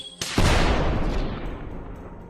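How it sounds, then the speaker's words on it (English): A single loud gunshot or explosion recorded in a forest for Halo Infinite, a sharp close blast whose booming tail rolls away and fades over a couple of seconds, with no talk. "Some gunshots and explosions, but this time in a forest with some of the ambient forest wildlife sounds recorded as well"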